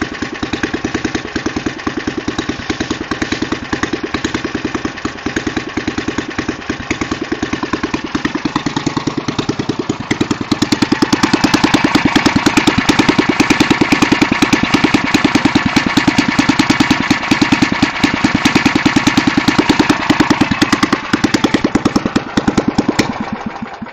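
A Jacobson engine runs just after a cold start, a loud close rapid chugging idle that stays steady, then grows louder and rougher partway through, with no talk.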